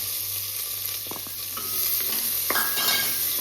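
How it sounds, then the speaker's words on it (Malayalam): Chopped onion and green chilli hit hot oil in a pan for an egg curry, a loud steady sizzle with a few clinks and scrapes of a spoon stirring. "ഇനി അതിലേക്ക് നമുക്ക് ഈ സവാളയും പച്ചമുളകും കൂടി അരിഞ്ഞത് ചേർക്കാം"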